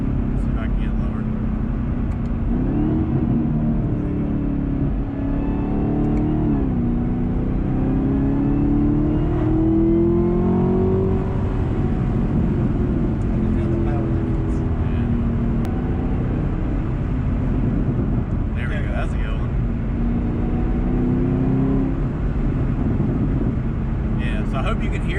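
A 2021 Chevrolet Camaro ZL1 1LE engine revs up and down, its pitch rising and falling as a droning roar heard from inside the car while someone talks over it.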